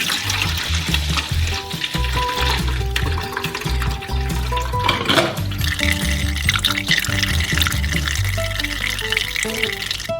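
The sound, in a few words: orange juice poured from jar into bucket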